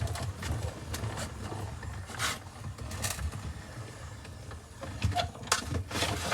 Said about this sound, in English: let's go ahead and crank this one through, and we will be done with our die cutting for this card